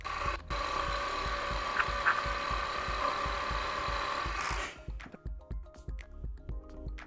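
A sewing machine stitches knit fabric for a shortdoll at a fast, regular pulse of needle strokes, then stops partway through, leaving a few scattered clicks and handling noises.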